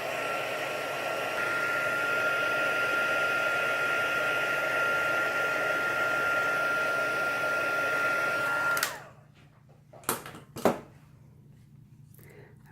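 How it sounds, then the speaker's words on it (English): A heat tool blows steadily to dry black ink stamped on glossy card, a continuous loud whir that cuts off abruptly near the end, followed by a few brief clicks and knocks. "now I'm going to heat set this again because I want the black to be really dry"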